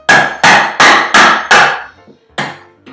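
A hammer strikes a Phillips head screwdriver to punch holes in a painted tin can, five sharp metallic blows in a steady rhythm followed by a sixth after a short pause, loud and close with no talking.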